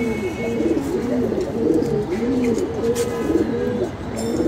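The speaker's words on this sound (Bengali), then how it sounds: "এটা কবুতরটা মাশাআল্লাহ খুব সুন্দর একটা কবুতর" Pigeons coo steadily on a rooftop loft in Dhaka, their low rolling calls repeating in close, continuous waves with faint background noise and no talk.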